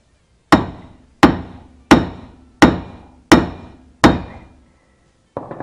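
A sledgehammer strikes a rear suspension part on a Peugeot 206 during a bearing replacement, six loud, evenly spaced metallic blows, each ringing briefly, close by with no speech, then a seventh hit starts at the end.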